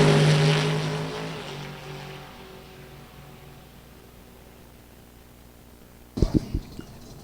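A Top Sportsman drag racing car at a sportsman nationals event roars off the line and fades quickly into the distance, leaving a low rumble, before a few sharp nearby bangs.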